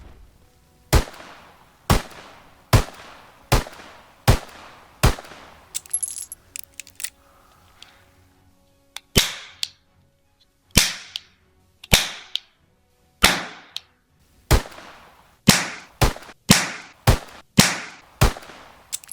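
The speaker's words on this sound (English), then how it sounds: "If you can get over the sound, you are going to find that the Enfield number 2 is a solid secondary" An Enfield No. 2 revolver firing in the Call of Duty WWII video game makes sharp, thin, plasticky cracks, each with a short ringing tail. Single shots come at a steady pace, with a brief pause midway and a faint rattle of reloading in between.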